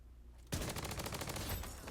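Rapid automatic gunfire from the video game Bloodstrike erupts suddenly after a short quiet lead-in, then continues as a loud, dense stream of shots that runs to the end without talk.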